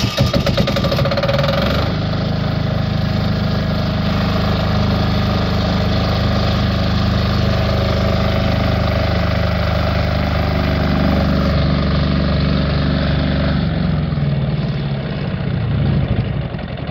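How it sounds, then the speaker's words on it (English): Wen D6000 diesel generator starting up and idling with a steady, loud mechanical drone close by, holding a constant pitch before winding down near the end. "I'm going to start it up and see where it's idling at."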